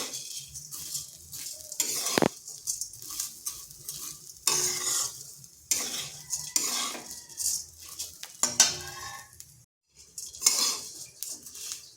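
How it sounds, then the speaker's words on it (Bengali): Semai vermicelli fried slowly in a pan over low heat, with repeated close scraping and clinking strokes of a utensil over a steady soft sizzle, continuing in uneven bursts throughout. "আর এইভাবে বেশ কিছুক্ষণ সময় ধরে সিমাইটাকে ভেজে নিতে হবে।"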